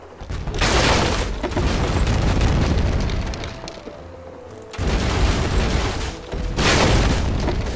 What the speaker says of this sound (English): I keep choosing this cannon for some reason.